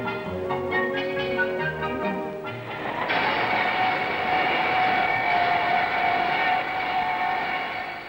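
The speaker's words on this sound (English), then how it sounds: "Almost every day a train load leaves for Sydney, 300 miles due south." A timber freight train at a rail centre on the Hastings River rumbles past with a long, sustained roar that builds from a tonal hum into a broad, steady clatter.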